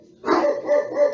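Household dogs bark in alarm at a disturbance outside, one close, loud bark swelling into a sustained, wavering yowl.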